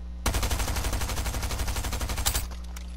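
Rapid machine pistol fire in a video game, a continuous close burst of evenly spaced shots lasting about two seconds before cutting off, with no talking.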